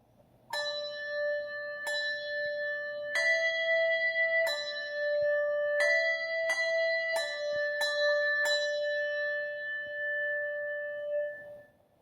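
Two handbells pitched D and E5 struck one after another in a slow, uneven sequence of about nine clear strikes, each ring sustaining and overlapping into a long shimmering decay, close and alone with no voices.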